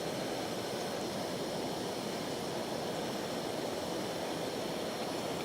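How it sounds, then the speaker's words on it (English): Water rolling to a boil in a Jetboil camping stove outdoors in a forest, a steady dense hiss and roar filling the whole clip at an even level, with no voices. "It's boiling."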